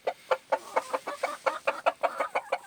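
A rooster calling his hens with a rapid series of short, rhythmic clucks, about a dozen evenly spaced calls close by in an evening backyard flock, no talking.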